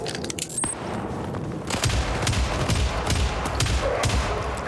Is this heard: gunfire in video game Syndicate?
yes